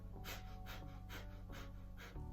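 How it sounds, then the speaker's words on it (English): Rapid rhythmic nasal panting of Kundalini yoga Breath of Fire, about five quick breath bursts in a steady pulse, close and continuous with no talking. "like a dog panting, but through the nose"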